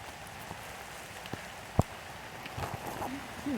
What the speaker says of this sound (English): I'm rained upon.